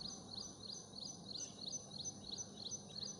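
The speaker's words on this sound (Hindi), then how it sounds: "इनकी आवाज़ से उठते हो, चिड़ियाओं की आवाज़ से उठते हो।" Small birds chirp in quick repeated high-pitched bursts, fairly faint and at a distance, over a low steady outdoor hum.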